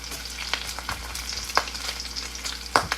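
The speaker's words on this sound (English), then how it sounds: "So we're just getting the bacon to crisp up" Bacon crisping in a frying pan with steady close sizzling and crackle, punctuated by a few louder pops and stirring scrapes; no talking.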